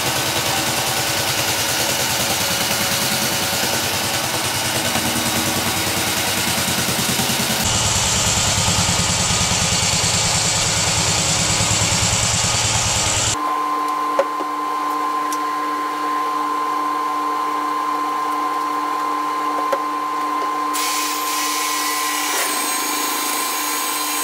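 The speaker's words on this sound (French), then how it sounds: "je vais passer à ma ponceuse à bande" A belt sander works a rustic wooden stool in a long, continuous, loud whine, with the tone shifting as the pressure and pass change partway through.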